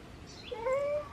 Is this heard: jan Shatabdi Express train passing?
no